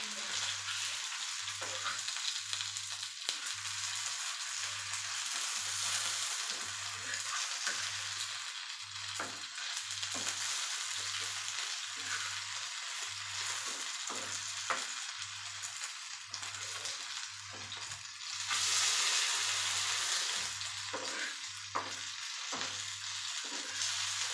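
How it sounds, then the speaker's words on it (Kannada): Mackerel pieces, the tail halves of a one-kilogram fish, fry in a pan with a steady, close, broadband sizzle that crackles on without pause, while a low pulsing hum repeats evenly underneath. "ಈ ಹಿಂದಿನ ಭಾಗನ ಫ್ರೈ ಮಾಡೀನಿ"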